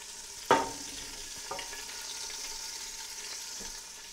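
Sausage pieces brown in a pan for lentil soup, a soft steady sizzle with a sharper clatter near the start and a few faint stirring knocks.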